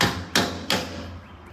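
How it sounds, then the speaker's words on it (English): A hammer strikes an ATM machine while people try to break into it with odd tools, landing two sharp, hard knocks about a third of a second apart, each followed by a short ringing decay in a quiet room. "It's a hammer and a screwdriver."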